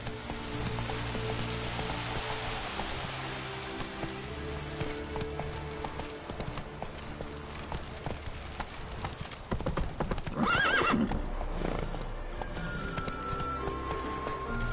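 Galloping horse hooves in The Witcher 3: Wild Hunt at night, a steady rapid clip-clop running throughout over a tonal music bed, with a brief whinny near the end.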